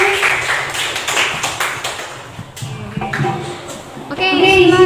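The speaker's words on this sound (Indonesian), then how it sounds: "tepuk tangan untuk kelompok 1" A classroom of students claps for a student group in a lesson, a short burst of uneven clapping with a teacher's voice and children talking mixed in, ending in louder talk.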